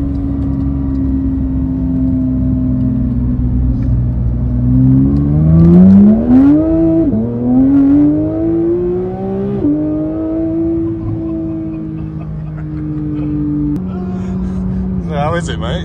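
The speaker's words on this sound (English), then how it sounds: "his exhaust on his GT3 is so loud" Porsche 911 GT3 engine with a very loud exhaust droning steadily while driving, its pitch climbing and easing as the car accelerates and shifts, close and continuous throughout.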